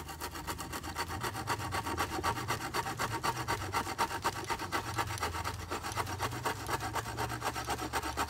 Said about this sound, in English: I'm gonna cut a section to use as the hearth